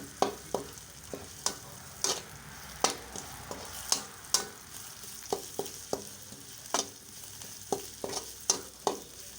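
Dry-roasting minced pork larb Kamphaeng Phet style in a pan: a steady low sizzle broken by regular sharp scrapes and knocks of a spatula stirring the meat, close and clear with no talking.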